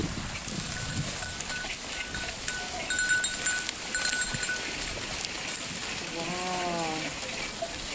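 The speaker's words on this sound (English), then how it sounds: "We just had a crossing of the sheep" Sheep on a pilgrim trail bleat in a wavering call or two amid a crossing flock, over steady outdoor background noise with faint bell-like tinkles and scattered shuffling.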